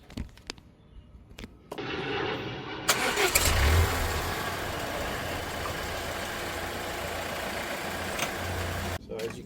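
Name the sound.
Volvo XC90 suspension adjusting itself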